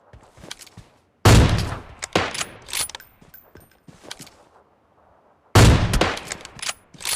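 Loud sniper rifle shots in a PUBG Mobile match, two heavy blasts around 1.3 and 5.5 seconds, each followed by mechanical bolt and gear clatter, with quieter game sounds in between.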